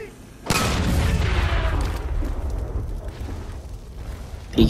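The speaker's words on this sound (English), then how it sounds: "Did any of y'all hear that explosion?" A sudden loud boom from an explosion in Far Cry 5 erupts and rumbles on for several seconds with crackling debris, fading slowly, amid game-like background noise.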